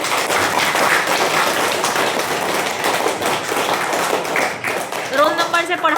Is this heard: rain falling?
no